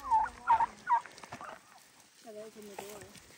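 Turkeys being herded to their tractor on an evening drive, giving three loud gobbles in quick succession near the start, then softer quavering calls and clucks; a person speaks briefly.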